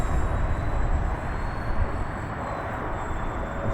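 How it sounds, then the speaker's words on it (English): An E-flite Commander mPd RC plane comes in to land on landing flaps, its electric motor a steady, fairly loud drone with a faint high whine held under broadband wind and airflow noise throughout. "let me put this thing on landing flaps and let's put her down"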